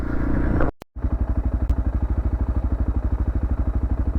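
Honda XR650 motorcycle approaching loud and close on a trail, its single-cylinder engine thumping in a steady rapid pulse after a brief dropout, revving as it passes with no voices.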